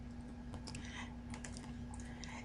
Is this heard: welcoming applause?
no